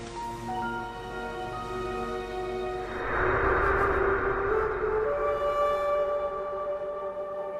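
An ambulance siren sounds in a busy street scene, its steady wailing tones rising in loudness midway through the clip, then persisting with traffic noise.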